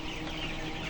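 Chickens cluck in a dense, continuous wash of noise around feeding time at night, close and fairly loud throughout the short moment.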